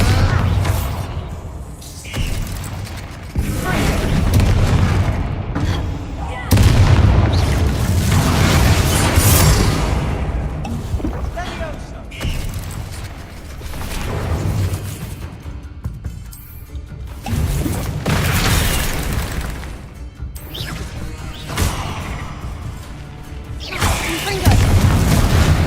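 Spell blasts in Hogwarts Legacy, including Bombarda explosions among other casts, sound as repeated loud booms and crashing impacts over a rumbling game soundscape, with a few brief quieter gaps.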